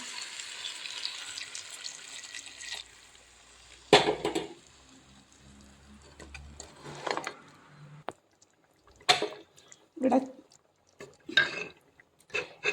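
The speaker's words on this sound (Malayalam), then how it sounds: "അപ്പോൾ ഇച്ചിരി ചാറ് ഒഴിക്കുകയാണ് വെള്ളം തിളപ്പിച്ച വെള്ളമാണ്" Boiled water is poured into a hot cooking dish to make gravy, setting off a steady hissing sizzle that fades, followed by scattered scraping and clattering bursts, close by with no talking.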